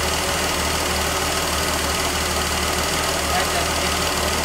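A Ford 200 inline-six engine, just fitted with a replacement head, idles roughly with a steady, dense mechanical rumble and faint uneven shudder, close and continuous.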